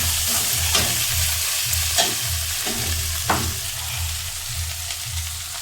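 Chopped onions frying in a pan for an okra sabzi, a steady sizzle with a spoon scraping and stirring at intervals, giving a few sharp clatters over the constant crackle.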